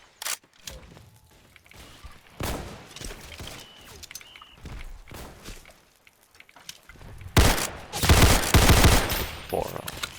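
Assault rifle fire in the Roblox video game, scattered short bursts and single shots, with a louder rapid burst near the end, amid faint game noise and a voice speaking briefly.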